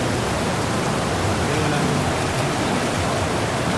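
Strong river water rushes and churns with heavy waves, a loud, steady broadband roar that fills the whole stretch without pause. Speech may be faint beneath it.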